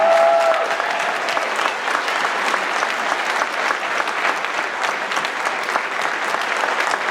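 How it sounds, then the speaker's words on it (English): Sustained applause from a large audience at an election debate, steady and dense throughout, with a brief tone audible at the start. "let's give our debate club a round of applause for doing an excellent job here this evening"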